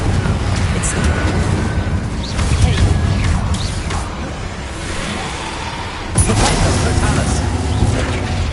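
Spell blasts from the Confringo and Incendio curses in a Harry Potter video game, a dense run of fiery bursts and whooshes over rumbling noise, with a loud swell near the end and a voice calling spell names throughout.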